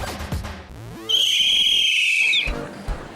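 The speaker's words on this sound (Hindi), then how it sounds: "सीटी बजाना क्या सिर्फ लड़के ही जानते हैं?" A sharp, shrill whistle is blown in one sustained blast of over a second, loud and close, following a short stretch of talk and ending with a few soft thumps.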